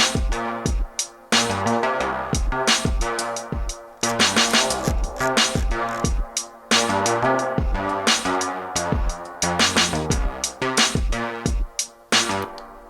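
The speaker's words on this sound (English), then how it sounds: "Maybe just a spring reverb." A bass patch on an Akai Force with spring reverb added plays a punchy, rhythmic pattern of repeated notes, loud and steady throughout with dense harmonic layers and splashy reverb tails.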